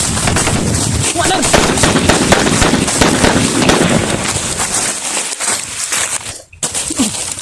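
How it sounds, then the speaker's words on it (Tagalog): Dense, continuous bursts of gunfire crackle through a loud, chaotic firefight, with shouting voices mixed in before a brief drop near the end. "Sobrang dami ng putok."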